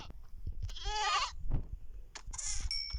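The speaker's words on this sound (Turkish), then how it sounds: "Keçiler geldi." Goats bleating in the Minecraft video game, several wavering cries in a row at close range with a short pause between them, set over a low, constant in-game background.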